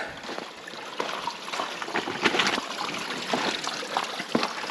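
Water from a mountain spring near an off-grid cabin trickles and splashes steadily, a soft continuous babble with small irregular drips and gurgles, fairly quiet and with no voices.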